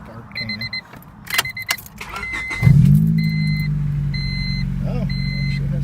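A two-door Honda Civic engine with a new stainless steel exhaust header cranks and fires up at close range after some rustling and clinks, then settles into a steady, throaty idle.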